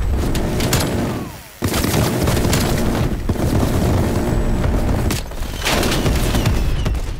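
Sustained automatic fire from a FARA 83 assault rifle in Call of Duty: Black Ops Cold War, loud continuous rattling with booming impacts and a brief pause near the start, then steady firing to the end.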